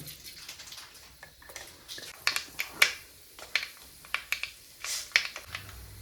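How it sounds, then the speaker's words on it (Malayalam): Mustard seeds crackle in heated coconut oil while fish curry is being started, with sharp close pops and clicks scattered irregularly over a quiet sizzle. "കടുകിട്ട് പൊട്ടട്ടെ"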